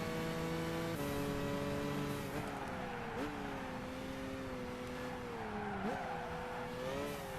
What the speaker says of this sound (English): Hear a lot of tire squeal too.